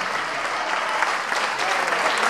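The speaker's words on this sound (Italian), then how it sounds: "un grandissimo applauso" Loud, continuous applause from a club audience for a performing duo at a Saturday night show, a dense wash of clapping that stays even throughout.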